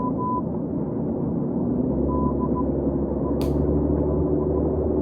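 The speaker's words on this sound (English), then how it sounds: "That's not music, that's Morse code." A faint Morse code signal beeps in short tones through a steady low hum and radio-like static, with one brief sharp click partway through.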